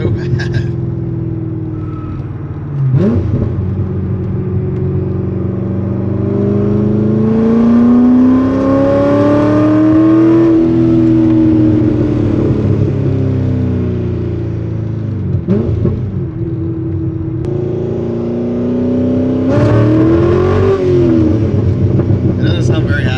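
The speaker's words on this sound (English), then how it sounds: "this thing needs a retune bad. It's breaking up so bad." A built C6 Corvette engine on a dyno revs up and down in long sweeps, running rough and breaking up at low rpm, with a deep, loud droning exhaust that dominates throughout.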